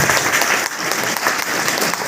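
Enthusiastic applause breaks out from the audience at a meeting, a dense, steady wash of clapping with a few louder individual claps over a couple of seconds.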